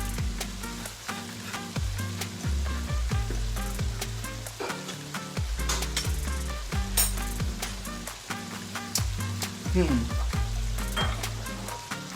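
Mushrooms and zucchini sizzle loudly and continuously in a hot pan, with a chef spoon scraping and stirring in regular strokes over the frying.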